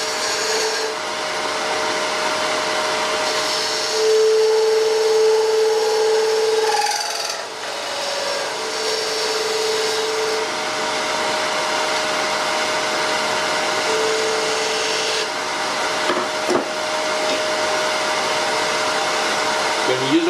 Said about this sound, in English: Use a parting tool to make the tenon.